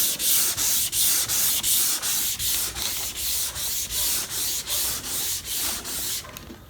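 A hand sanding block works over Silco 9900 high-build primer on Honda bodywork, with close, loud, rhythmic back-and-forth rasping strokes, about two per second, and no voices.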